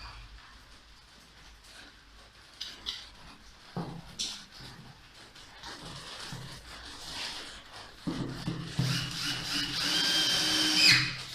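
Power drill driving a screw into melamine board, starting with scattered quiet whirs and bumps and building to a louder, sustained drilling whine near the end, close to the listener.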